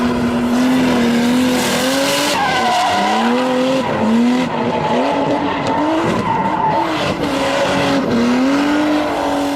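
A Nissan Laurel C34 drifting, its tires squealing loudly and continuously under the engine's roar, with the pitch sliding up and down as the car slides, close and intense throughout.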